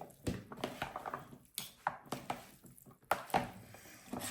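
Irregular clinks and soft thuds of two spoons tossing Olivier salad in a bowl, close and quiet, in uneven bursts with no talking.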